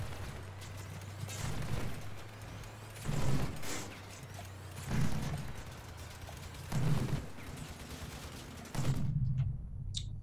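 Synthesis plasma emitter firing in the vehicle combat game Crossout: five heavy, booming shots at roughly two-second intervals over a steady low engine hum, ending in quiet.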